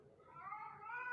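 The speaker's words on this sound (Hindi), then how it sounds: "बिल्ली चिल्ला रही है।" A cat gives a single faint drawn-out meow that rises in pitch over about a second, heard alone with no talking.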